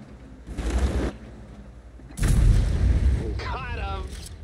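Tank cannon fire in World of Tanks on a T49: a deep boom at half a second, then a heavier blast at about two seconds that rolls on, with a voice and in-game radio chatter in between.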